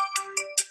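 A 1990s phone ringtone plays the melody of a song as three bright electronic beeping notes in quick succession, clear and close with no talking.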